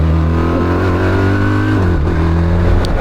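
A 2025 BMW R1300RT motorcycle engine pulls hard in second gear, a loud, steady rising drone with layered harmonics that dips briefly near the end and climbs again, up close and with no talk.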